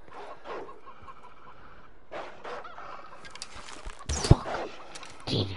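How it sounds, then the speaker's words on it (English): A chicken in the video game Far Cry 4 clucks in a few short scattered bursts amid game ambience, followed by a sharp loud thump near the end. "I would never get that chicken. That chicken always run from me."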